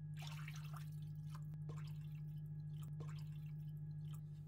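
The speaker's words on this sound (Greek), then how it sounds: "Μετά από 5 λεπτάκια προσθέτουμε 1 λίτρο και 200 ml νερό." Water is added to a pot of tomato sauce for meatballs, heard as faint, sparse drips and splashes over a constant low electrical hum in a quiet kitchen.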